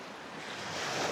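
Ocean surf breaking along the shore at Tsilivi on Zakynthos, a steady broadband wash of waves swelling slightly louder toward the end, mixed with light wind buffeting the microphone, with no voices.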